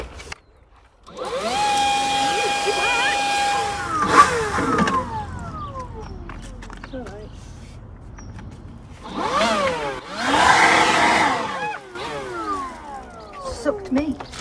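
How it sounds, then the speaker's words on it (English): A leaf blower clearing loose soil from the base of a wall at a garage slab site, its motor whining up loudly in bursts, revving and easing off, with a voice talking between the blasts. "So I've brought my blower with me, and hopefully this does the job of getting rid of the loose soil"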